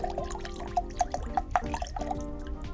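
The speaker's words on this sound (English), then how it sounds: "This is a 2-ounce pour of rum, and in these little bottles here is just exactly 2 ounces. So let's pour the whole thing out." A 2-ounce bottle of rum glugs out into a glass, a rapid run of bubbling pour sounds heard close up with no talk.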